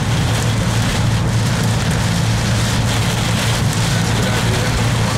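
Pea-size hail falling in a storm, a dense, steady patter of countless small impacts pelting surfaces nearby, loud and unbroken throughout.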